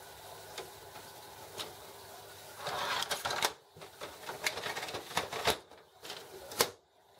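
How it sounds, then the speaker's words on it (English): Print head of a Canon IP7250 edible-ink printer shuttling across, a faint mechanical whir with quick ticking clicks and a louder stretch of rattling movement midway, heard alone at close range. "The print head's going to move over to the middle"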